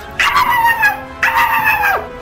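A dog in the video game GTA 5 gives two drawn-out, yelping cries about a second apart. Both are loud and close, with no talking over them.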